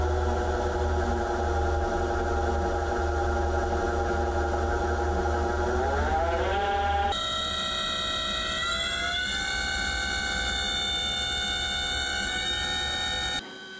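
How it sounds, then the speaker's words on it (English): A high-speed seal face test rig inside a steel box spins up toward 4,000 RPM, a loud steady mechanical whine with layered tones that climb in pitch and then shift abruptly to a higher, brighter drone. "You can hear that AJ's using his hand controller here to spin up a test rig that we have inside of this steel box."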